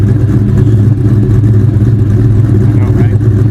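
A 2003 Mustang SVT Cobra engine runs loud and close, a steady deep rumble holding at a constant idle-like drone throughout.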